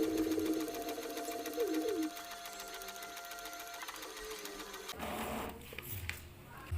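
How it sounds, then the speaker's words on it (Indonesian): An inkjet printer-scanner runs a copy, its print head faulty: a steady mechanical whirring with rhythmic carriage passes, then a shift to clunkier feed and rattling noises near the end, close and alone. "Kita hanya tinggal menekan tombol copy dan tekan 1 kali, lepaskan. Dan proses mengcopy pun berlangsung."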